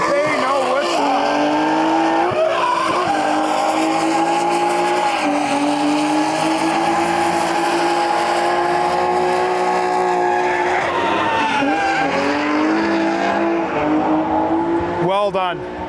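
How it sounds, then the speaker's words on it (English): An Infiniti G35 drifting at a grassroots event, its engine screaming at high revs while tires squeal continuously, with the pitch swooping through transitions; loud, close and sustained, with commentary heard underneath. "Okay, here we go with this G35. This guy can shred"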